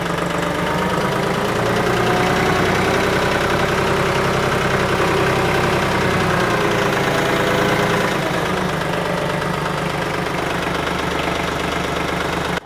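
A tractor engine runs steadily in four-wheel drive, a loud, close, constant diesel rumble with a knocking, vibrating tone that holds throughout without pause and with no talk.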